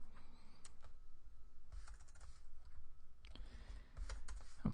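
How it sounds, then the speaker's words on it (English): Keys on a computer keyboard clatter in short irregular runs of soft, close clicks, broken by brief pauses, with faint room tone and no talking. "by default, we will type in email address"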